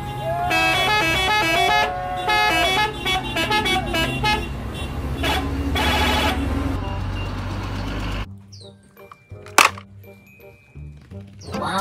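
Toy bus sounding repeated electronic horn toots and beeps over a busy, loud stretch of vehicle-effect sounds, then dropping to near quiet with a sharp click.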